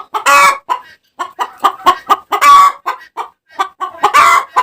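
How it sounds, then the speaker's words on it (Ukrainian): A farmyard chicken, one of the older hens kept with ducks and turkeys, clucks loudly and close in a string of short, agitated bursts, with several longer squawking calls among them. "Ух ти, яка страшна курка."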